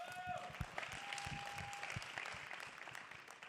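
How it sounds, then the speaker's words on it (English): A round of applause from the audience at a leadership panel: a soft, continuous wash of clapping heard from a distance, holding steady throughout with no voices over it. "Give him a round of applause."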